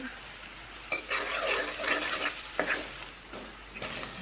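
Garlic, salt, turmeric and chili sizzle in oil for jute leaf dal, a soft crackling fry with a few sharp sputters and spoon clinks, close and fairly quiet.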